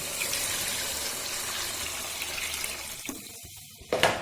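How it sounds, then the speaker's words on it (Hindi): Water streams steadily into a pot of roasted black chickpeas, a soft continuous gush that fades toward the end before a brief splash and clatter, heard alone without talk. "अब मैं इनमें पानी ऐड करती हूँ।"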